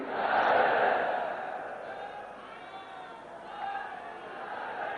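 A large crowd at a political rally in Lucknow roars a chanted slogan in unison, a loud, distant-sounding swell of many voices that peaks early then settles into a sustained echoing wash.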